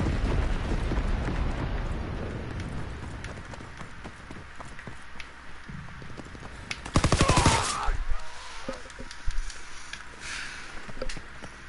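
An incendiary bomber airstrike in Call of Duty World at War, heard as distant rumbling and crackling gunfire across a battlefield, with a sharper burst of blasts midway, fairly quiet overall.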